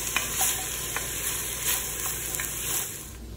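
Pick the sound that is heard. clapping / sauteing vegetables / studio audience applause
sauteing vegetables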